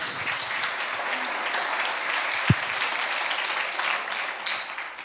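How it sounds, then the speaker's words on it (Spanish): Steady applause from a crowd fills the room, an even wash of clapping that holds at the same level throughout. "Un aplauso, por favor."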